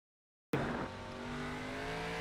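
Race car engine on a road course in NASCAR 25, bursting in after silence with a sharp onset, then a steady, loud drone at light throttle in third gear.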